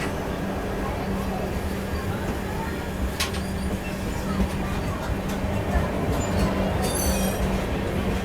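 A train rolls along platform 1 at a station during a Sampark Kranti journey, a steady broad rumble with faint wheel squeals and a low hum throughout, heard from nearby on a standing train.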